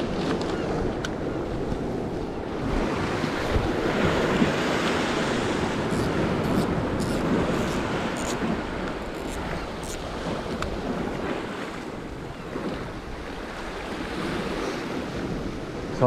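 Sea waves crashing around rocky shore structure on a UK coast at dusk, a continuous surging wash with wind buffeting the microphone, fairly close and steady.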